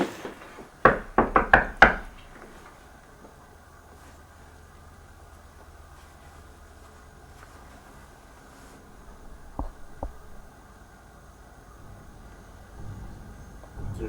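A knuckle rapping on a wall during a paranormal investigation taps out the shave-and-a-haircut rhythm: a quick cluster of five sharp knocks, followed by long quiet with a couple of faint distant bumps.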